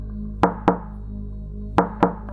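Knocking on a house door in the middle of the night, two sharp raps, a pause, then two more raps, fairly close and clear against a low steady hum.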